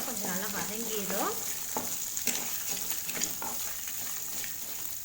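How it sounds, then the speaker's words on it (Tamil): Onions and garlic sautéing in a pan over a low flame for garlic rice, a steady soft sizzle with a brief stirring scrape early on and faint clinks, no talking. "வெங்காயத்தை சேர்த்துட்டு வெங்காயத்தை லேசாக வதக்கி விட்டுருங்க."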